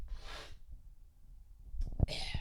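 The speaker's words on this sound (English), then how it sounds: "Sorry, I gotta sneeze." A single sharp sneeze bursts out near the microphone, preceded by a breathy intake and followed by a brief exhale.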